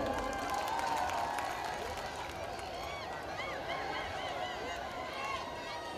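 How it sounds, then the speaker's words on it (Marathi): An audience at the Banjara festival in Badlapur claps and cheers loudly after a dance performance, a dense wash of applause that stays steady and slowly eases toward the end. "एकदा जोरदार टाळ्या होऊ द्या"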